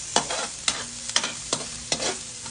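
Chopped onion with garlic sautés in a hot pan for a Filipino chicken hamonado, a steady sizzle broken by about five sharp spatula scrapes and stirs at a fairly even pace, close and clear, with no voices.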